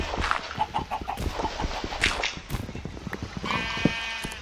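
Blocky in-game chicken clucks from Minecraft, repeated short clucks in a loose rhythm at moderate volume, mixed with other small game sound effects.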